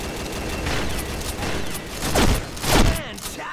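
Gunfire in the zombie shooter Biohazard, with several sharp close-range shots and a busy in-game soundscape, two louder blasts standing out near the end.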